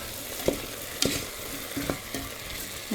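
An eggplant-based ajapsandal vegetable dish sizzles in a frying pan while being stirred, with a spoon clinking against the pan several times over a constant hiss of frying.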